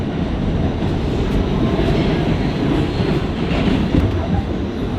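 Train rumbling at a subway stop, a continuous loud roar of wheels and rail noise with a faint clatter and no talk.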